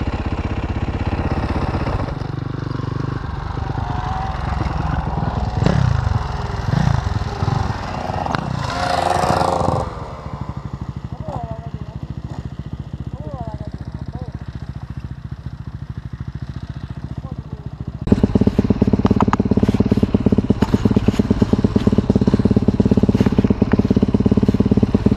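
Enduro motorcycle engines running throughout, at first a rough, revving, mid-pitched drone with some clatter, then louder and denser from about the eighteenth second as more bikes idle and rev up close by.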